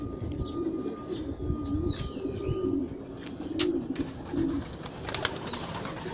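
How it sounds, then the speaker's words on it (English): Pigeons in a coop, soft repeated low coos rising and falling close by, with occasional chirps and light background noise. "y'all gotta check this pigeon coop out."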